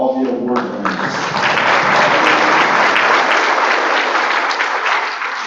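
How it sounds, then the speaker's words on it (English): Steady applause from an audience honouring award winners at an online learning conference, sustained and loud for several seconds, with a brief bit of speech at the start before the clapping takes over and fades slightly at the end. "So one final round of applause,"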